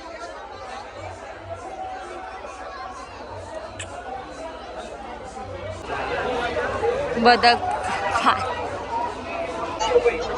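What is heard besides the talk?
crowd chatter at a village fair market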